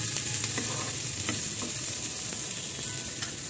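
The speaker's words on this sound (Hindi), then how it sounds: "हम इसको इसलिए भून रहे हैं, थोड़ा सा इनका कच्चापन निकल जाए, इसलिए हल्का हल्का भून रहे हैं इनको।" Chickpeas are lightly roasted in a pan, a steady close sizzle running throughout with faint, irregular scrapes of stirring.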